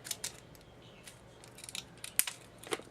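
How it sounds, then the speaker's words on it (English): Scissors snip through a recycled paper envelope in a quiet room, a string of short crisp cuts with one sharp, louder snip near the end, heard up close with no talking. "So we're going to take the scissors"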